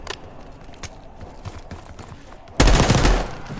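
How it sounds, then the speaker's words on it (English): Gunfire in the video game Call of Duty: Black Ops 6 erupts as a sudden loud, dense burst near the end, following a quieter stretch of ambient game sound with scattered soft thuds. "You hearing gunfire?"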